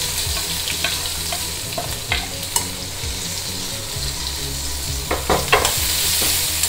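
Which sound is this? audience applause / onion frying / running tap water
onion frying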